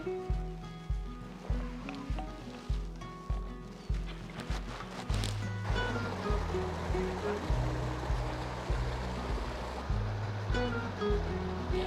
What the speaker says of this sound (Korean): 이 산에서 내려오는 물이 이렇게 통해서 이렇게 내려가서 강물이 되는 거였어